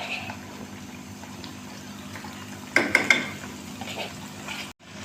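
Garlic, ginger, green chili, whole coriander and cumin frying on high heat in a pan: a soft steady sizzle with a few sharp metallic clinks of a utensil near the middle.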